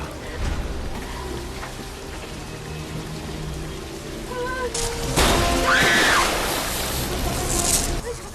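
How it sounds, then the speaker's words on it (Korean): Water gushing into an elevator in a film scene, a rushing splashing pour that swells louder in the second half under tense score and a brief high vocal cry. "얼마 후 톰은 엘리베이터 안으로 물을 채우기 시작합니다."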